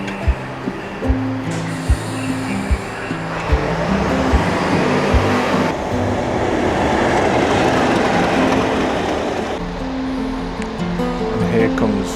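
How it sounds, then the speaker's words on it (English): A train rolls into a station platform near Birmingham with rhythmic clacks of wheels over rail joints, its rumble swelling into a broad roar as it passes close by, then easing. "And here comes train number 2"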